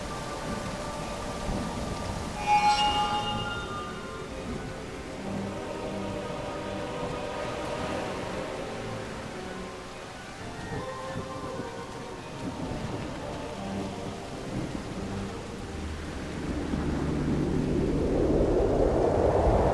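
Steady rain and rumbling thunder fill a scene in the video game Genie, a continuous wash with a sharp crack early on and a heavier swell near the end, under soft tonal music.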